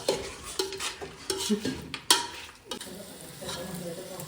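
Village chicken curry being stirred in a pan, a series of close, irregular scraping and clanking strokes of a ladle over a low sizzle, with faint voices in the background.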